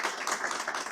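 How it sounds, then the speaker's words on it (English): An audience at a justice conversation event claps for Matt Haney, a brief burst of dense applause from many hands. "give a round of applause to Matt Haney"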